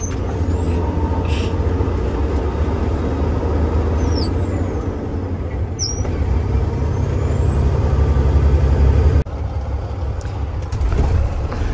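A loaded truck hauling corn to an ethanol plant rumbles steadily with a deep engine drone and road noise, while sharp air-brake hisses cut through now and then. No one speaks.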